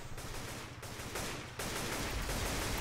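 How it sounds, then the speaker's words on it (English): Gunfire in a squad-based video game, dense and continuous, with overlapping bursts and rapid shots forming a loud, unbroken barrage across the whole stretch. "They're gunning them down mercilessly."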